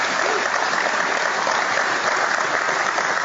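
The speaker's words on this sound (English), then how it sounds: "That's worthy of a round of applause, isn't it?" Audience at a motorsport legends talk show gives a steady, dense round of applause, a loud continuous wash of clapping with no break.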